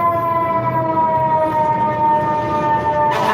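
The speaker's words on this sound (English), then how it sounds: "Or fire truck." A fire truck siren wails loudly with a sustained, slowly falling multi-tone howl, held steady throughout and ending with a burst of broadband noise.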